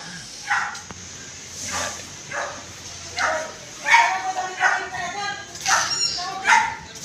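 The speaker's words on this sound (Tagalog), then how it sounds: "Tahol ni Tisay parang hindi aso eh" A dog with an odd-sounding bark gives a series of short, yelping barks and whines at an uneven rhythm, fairly close and moderately loud, with no other sound in between.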